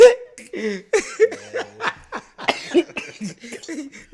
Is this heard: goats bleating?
no